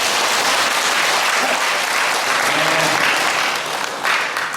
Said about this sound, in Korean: 자, 박수 한번 쳐드려요.